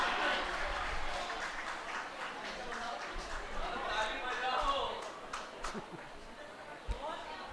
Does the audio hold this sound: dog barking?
no